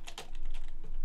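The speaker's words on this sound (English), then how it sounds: "So what you can do is you can actually type" Fingers typing on a computer keyboard at a music-notation workstation, a short burst of soft, close key clicks in quick succession, no talking.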